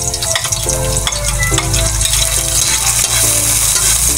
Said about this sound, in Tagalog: ilunod natin yung bawang.